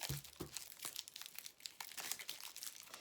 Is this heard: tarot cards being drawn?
yes